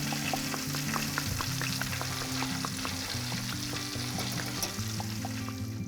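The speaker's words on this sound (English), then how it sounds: "You're just going to gently give it a little flip. Let it cook for another minute or 2 on the other side." A walleye fillet frying in oil in a pan gives a dense, continuous crackling sizzle with small pops throughout, close and steady, over a low humming background with no talk.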